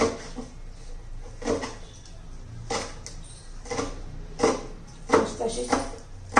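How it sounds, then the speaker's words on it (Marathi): A knife chops washed fenugreek leaves finely on a board, giving irregular sharp taps in short bursts, close by and moderately loud, with someone speaking over the cutting. "ती पण बारीक चिरून घ्यायची आहे. एकदम बारीक चिरली ना म्हणजे पटकन शिजते ती."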